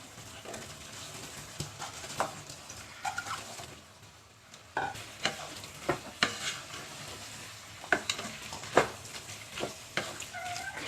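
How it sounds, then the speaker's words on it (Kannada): Baby corn stirred into a pan of spiced gravy base with garam masala, giving a steady sizzle broken by repeated scraping and clattering stirs, close and moderately loud, with no talking. "ಬೇಬಿಕಾರ್ನ್ ಹಾಕೊಳ್ಳೋಣ."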